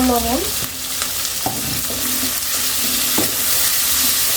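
Shrimp tipped into a hot pan with beans, yardlong beans and okra, giving a loud, continuous close sizzle with occasional stirring knocks and scrapes throughout and no voices.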